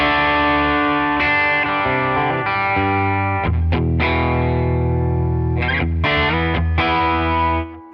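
Fender Acoustasonic Player Telecaster on its boosted B side, strummed chords and ringing single notes with a gritty, driven edge, loud and close, with a few sharp percussive hits before a final fade; no talking.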